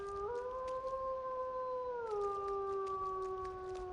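A wolf howls in a modded Skyrim video game, a long clear tonal howl that holds steady, then slides down in pitch over a constant stormy background rumble.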